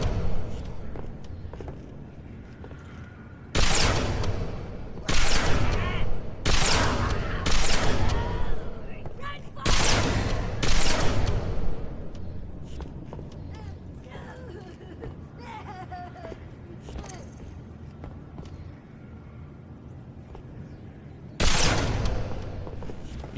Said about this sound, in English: take out the brutes and the grunts with the beam rifle that you picked up off the jackal snipers